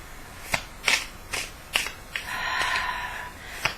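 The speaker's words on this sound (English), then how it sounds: "I just pick up my decks sometimes and just shuffle them." A tarot card deck being shuffled up close, with a series of sharp riffling bursts at a quick, uneven rhythm, one longer smooth shuffle in the middle and no talking.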